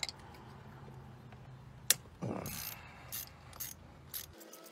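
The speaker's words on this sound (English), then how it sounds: "I'm using a 932 socket wrench for this screw right here." Socket wrench ratcheting on a screw while fuel injectors are being replaced on a Ford Focus ZX5, a few quiet, close clicking bursts with short pauses between.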